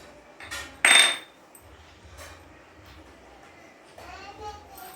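A pickle container's lid is pried open in a home kitchen, giving one loud, sharp clatter of a plastic or metal lid against the jar, with quieter handling noises before and after.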